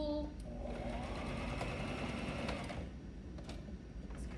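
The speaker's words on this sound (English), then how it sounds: "When you're sewing it, just sew it together." Sewing machine stitches knit fabric for boys' pajamas in a steady, close whirring run that stops partway through, with a voice talking over it.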